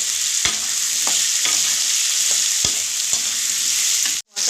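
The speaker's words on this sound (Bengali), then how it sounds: "এর মধ্যে স্বাদ মতো নুন দিয়ে একটু ভাজিয়ে টমেটোটা নরম হয়ে যাবে" Tomatoes with salt fry in a pan with a close, steady sizzle, while spoon scrapes tap out a loose rhythm several times, with no talking.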